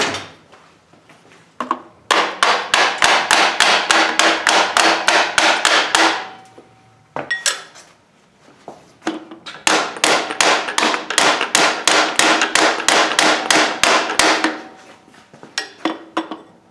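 Rapid, loud metallic hammer blows on a seized distributor in a Ford 351M engine, in two long bursts, each a steady run of strikes, with short quieter pauses and a few scattered knocks between.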